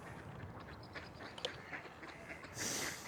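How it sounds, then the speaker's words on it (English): Faint duck quacks come through a steady outdoor background, scattered and brief, with one brighter burst near the end. "There's our duck friends."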